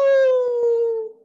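A human voice imitates a dog's howl: one sustained, loud wailing tone that slowly falls in pitch and fades out after about a second.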